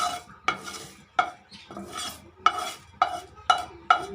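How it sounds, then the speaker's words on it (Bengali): Bay leaf, dried chili and five-spice seeds fry in hot oil in a pan while a utensil stirs them, giving about seven sharp scraping strokes in an uneven rhythm over a soft sizzle, close and without talk. "এগুলো একটু ভাজা ভাজা হয়ে গেলে একটু সাইড করে সরিয়ে নেব।"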